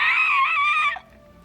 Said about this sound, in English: the loud, gut-wrenching scream, which he thought sounded almost sad